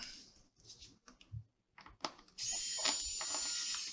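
Screws being removed from a Dell XPS 15 7590 laptop: faint clicks and scraping taps from a small driver, followed by a steady high-pitched electric screwdriver whir near the end.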